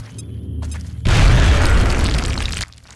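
A frag grenade detonates in the X-Com game, one heavy booming blast that hits after a brief quiet and rumbles for about a second and a half before cutting off.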